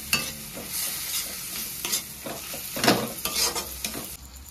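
Powdered spices, chilli powder and turmeric, fry and get stirred in a pan for paneer kosa: a steady close sizzle broken by repeated scraping strokes of the spoon, with no voices.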